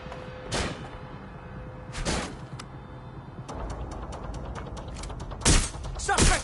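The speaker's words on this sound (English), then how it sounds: "Suspect has opened fire." Gunfire in the shooter game Watch Dogs Legion: scattered loud shot bursts near 0.5, 2 and 5.5 seconds, with a rapid run of sharp crackling shots between 3.5 and 5 seconds over a low game ambience.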